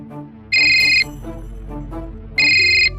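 A telephone rings for an incoming call from a son, two distinct loud electronic rings about two seconds apart, sounding over a low background bed of music or room noise.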